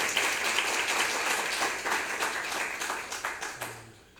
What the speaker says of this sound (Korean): 다시 한번 크게 박수 부탁드리겠습니다